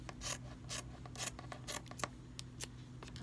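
Scissors snip through fabric for sewing a T-shirt, several quick, close, quiet cuts in an irregular rhythm with no talk.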